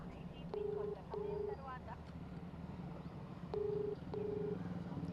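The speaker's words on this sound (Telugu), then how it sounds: "ఫోన్ రింగ్ అవుతుంది" A phone call rings out on the line as the outgoing ringback tone sounds twice in paired pulses, each pair split by a short gap, faint against traffic and crowd noise from outdoors.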